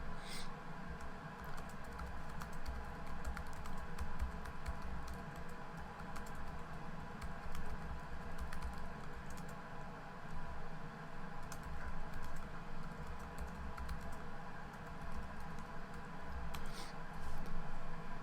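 Soft typing on a computer keyboard while writing in WordPress: steady, quiet key clicks patter continuously and evenly, with no pauses, over a faint background hum.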